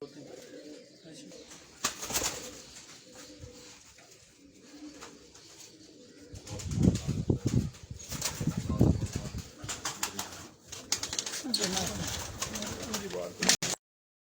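Pigeons coo in soft, low bursts among the birds of a champion pigeon keeper, with wing flaps and rustling and someone talking quietly in the background.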